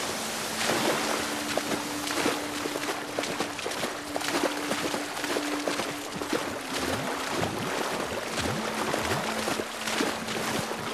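A waterfall in the video game The Last of Us Part II gives a steady, full rushing wash of water throughout, with a faint sustained tone and small clicks beneath it.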